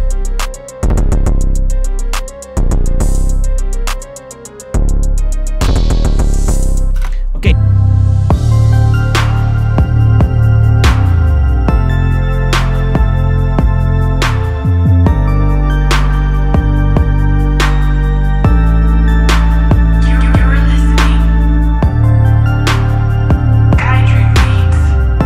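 A beat built in FL Studio plays loud, with a triplet hi-hat pattern ticking over deep bass and synth chords. It starts sparse, then fills out after a short break.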